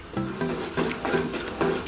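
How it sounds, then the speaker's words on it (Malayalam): A quarter cup of sugar melts and caramelizes over a flame in a heavy-bottomed pan, giving a soft sizzle under repeated rhythmic stirring scrapes, close and moderately loud. "ഈ പഞ്ചസാര ഇവിടെ മെൽറ്റായി തുടങ്ങിയിട്ടുണ്ട്."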